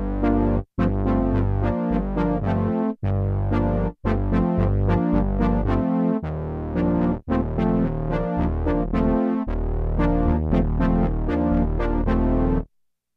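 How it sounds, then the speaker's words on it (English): An OB-X8 analog synthesizer plays its Brass Ensemble patch, bright buzzy polyphonic brass chords in a sequence of punchy stabs and sustained held chords with short gaps, loud and upfront for about thirteen seconds with no voice. "We start out with A1. This was called Brass Ensemble,"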